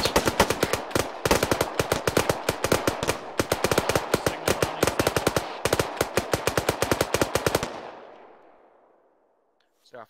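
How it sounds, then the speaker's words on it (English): Rapid automatic gunfire in an Arma 3 firefight in Finland, loud, close bursts of machine-gun shots in several long strings, then fading into a rolling echo before a brief final sound. "we're engaging them as they pop up"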